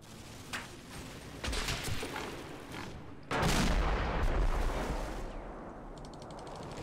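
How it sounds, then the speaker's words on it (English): 37mm shells firing in a war video game, a run of sharp booming shots and gunfire bursts, with a louder heavy blast partway through, then a rumbling tail. "37mm shells. Kind of firing a bit high there."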